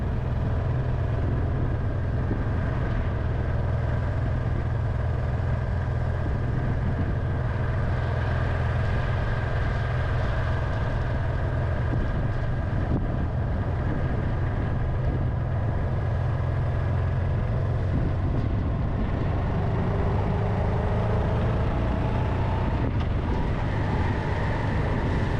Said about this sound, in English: This V-twin 700 Honda, riding at a moderate pace, is a pretty good bike to do distance on.